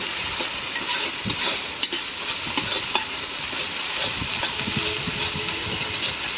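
Vegetables sizzle loudly in a hot pan while a utensil scrapes and stirs them in irregular strokes, with no talking.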